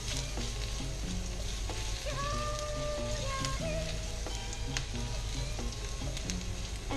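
Garlic frying in a pan for Hawaiian chicken gives off a steady, dense sizzle, close and fairly loud. Faint clinks and short tones rise above it.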